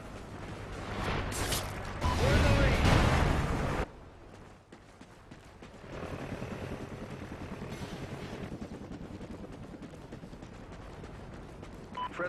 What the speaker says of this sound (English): Friendly chopper inbound.